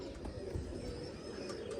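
Pigeons coo in a loft, a low steady murmur of overlapping calls close by, continuous through the moment with no talk.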